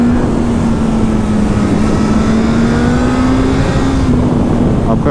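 A 2021 Suzuki GSX-S 1000 motorcycle engine holds a steady, loud ride drone with a sustained tone that rises slightly at high revs, heavy wind noise over it throughout.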